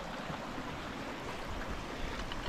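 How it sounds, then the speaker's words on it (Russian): A mountain stream near Lake Donguzorun in Russia, one of the first streams feeding the Donguzorun river, rushes with a steady, close, even wash of water and no speech. "Дошли мы до первых ручьев."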